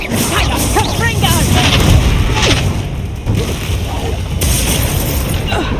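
Confringo blasting spells in the game Hogwarts Legacy erupt in a dense, continuous run of booming explosions and bursts, loud and close, layered over busy combat noise with voices shouting throughout.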